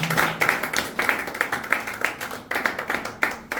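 Congregation clapping during a church service, a steady rhythmic beat of many hands in time, fairly near and even, continuing throughout with no voices over it.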